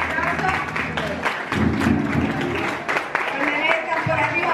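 Applause and clapping break out for the hosts at a family parranda in Aguadilla, Puerto Rico, a short burst of hand claps mixed with crowd voices and some thumps.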